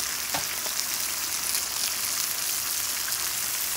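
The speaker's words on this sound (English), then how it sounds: "I will add some onion for fried onion taste." Onion frying in a pan for pilaf gives a steady, close hiss and sizzle with faint crackles, continuous and unbroken, with no voices over it.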